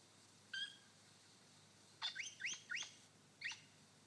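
A lyrebird mimics a crimson rosella in forest, giving one short whistled note, then a quick run of three or four bright, sliding whistles and a final note, moderately loud and clear with no talk.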